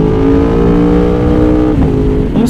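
An Aprilia Tuono Factory motorcycle fitted with an Akrapovic exhaust revs hard in a single loud, close acceleration, the engine note climbing steadily with no talk over it.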